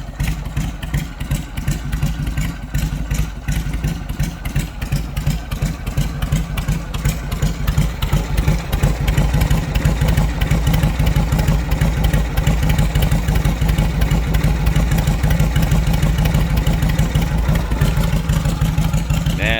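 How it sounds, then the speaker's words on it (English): A 1973 Harley-Davidson Shovelhead 1200cc V-twin with a cam idles steadily nearby, its loping, uneven low thump repeating without a break for the whole stretch, loud and alone. "sounds like one of those old school hit and miss"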